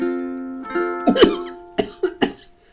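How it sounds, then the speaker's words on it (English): Several sharp coughs in quick succession, loud and close, following a sustained tone that fades out. "I've got a cough is what I've got."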